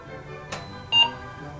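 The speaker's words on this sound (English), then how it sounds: "Alright, so we heard a beep and it booted up." A single short electronic beep from an Apple II computer starting up sounds once, clean and brief, after a soft click, with a quiet background hum.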